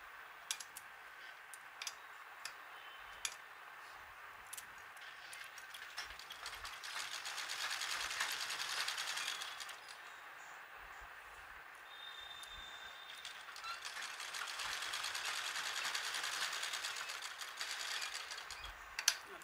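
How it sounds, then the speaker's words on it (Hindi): A sewing machine stitches a fridge cover made from leftover fabric, running quietly in two longer stretches of rapid mechanical whirring, separated by softer clicks and pauses. "अब हम इसमें सिलाई लगा लेंगे"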